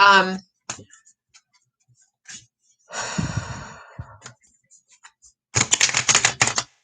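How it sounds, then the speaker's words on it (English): Tarot cards riffle and shuffle in a few quick rustling bursts, close by, separated by quiet pauses and soft breaths. "I'm going to just shuffle the cards"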